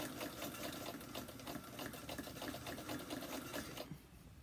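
A sewing machine back-stitches fabric for a bowl cozy, a close, rapid rhythmic clatter of the needle running steadily for several seconds before it stops.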